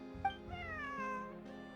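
A cat in the video game Genshin Impact gives a single drawn-out meow that slides downward in pitch, clear and fairly quiet over faint background music.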